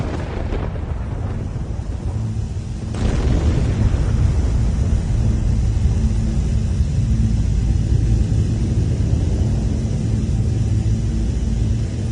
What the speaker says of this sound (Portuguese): E houve relâmpagos, estrondos, trovões, um terremoto e uma forte chuva de pedra.